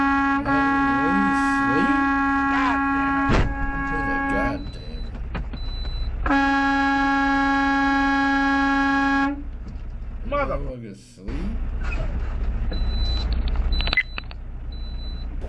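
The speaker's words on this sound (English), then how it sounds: "Here I'm honking to let them know I'm already pissed." A semi-truck's air horn blasts in long, loud tonal honks, two sustained bursts separated by a gap, over road and engine noise.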